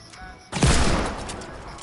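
Gunfire in an online shooter game, a sudden loud burst of rapid shots that rings out and trails off.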